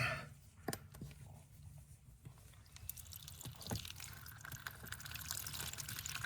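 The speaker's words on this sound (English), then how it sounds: "I can hear it, and I see it now. So that is water." Faint water trickling from an opened pipe valve, with a few soft drips over low background rumble, steady and somewhat distant.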